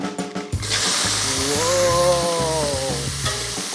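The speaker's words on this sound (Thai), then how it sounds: "เราต้องเอาปูเนี่ยลงไปผัดให้สุกก่อน" Crab in its shell stir-fried in hot oil sizzles loudly and continuously, with rhythmic clattering scrapes of a spatula against the pan and a brief ringing metallic tone partway through, close up with no voices.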